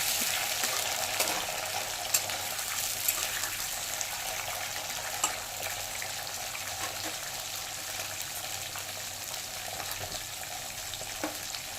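Tough spinach stems fry in oil with a steady, close hiss and sizzle while occasional spoon scrapes and clinks mark the stirring; no one talks throughout.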